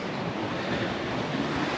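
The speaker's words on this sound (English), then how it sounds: "the big waves are coming now for it as well" Waves break and wash continuously along a beach at Filey Brigg in a steady, broad roar mixed with wind buffeting the microphone, with no voices.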